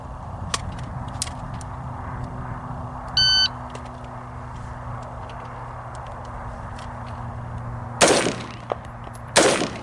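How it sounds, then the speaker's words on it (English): An electronic shot timer beeper sounds once near the start of a firearm qualification course, a short steady tonal beep over low background hum, followed by two sharp loud gunshots near the end. "when you hear the beeper, begin."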